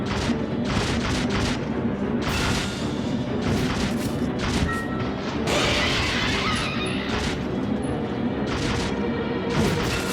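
Pistol shots ring out in the video game Resident Evil Zero, a series of sharp, loud cracks and thuds spread irregularly across the clip over a busy, dense game backdrop.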